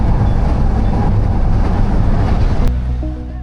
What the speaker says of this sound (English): do a little bit of riding the rails just to sort of try out some more of traveling around on the train here in Manila